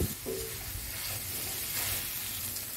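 Mie goreng noodles stir-fried in a pan with shredded chicken, sliced meatballs and fried egg, giving a steady close sizzle and hiss with light scraping of the stirring, continuous and free of speech.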